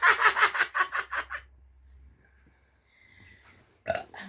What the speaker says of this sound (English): Hey, I'm burping.